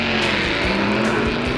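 A Chevrolet-based, gas-burning rail dragster engine at a 1960s NHRA U.S. Nationals drag race, with a loud, steady roar and a sustained low drone through the whole stretch, no voices over it.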